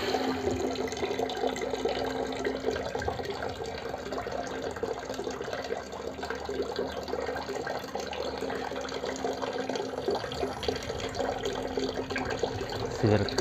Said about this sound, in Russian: Пошла вода в хату.